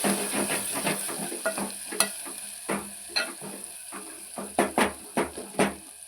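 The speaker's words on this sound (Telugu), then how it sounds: "ఒక 2 మినిట్స్ ఇలా ఫ్రై చేసుకొని దీని తర్వాత పసుపు యాడ్ చేసుకుందాం" Beans, tomato and green chillies sizzle in a pan while a spoon stirs them, giving soft scraping strokes and small clatters over a steady fry, with faint speech at times.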